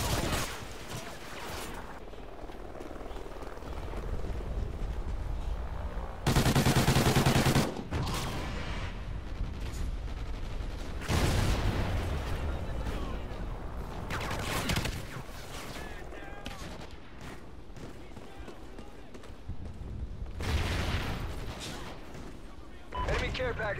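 Gunfire from a military shooter video game, with bursts of automatic fire and heavy blasts scattered across a long stretch amid constant battle noise, under intermittent voice chat.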